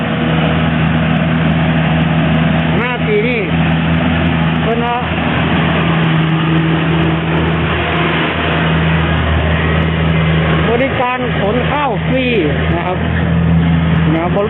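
A rice combine harvester's engine runs loud and close with a steady droning hum, while people talk over it.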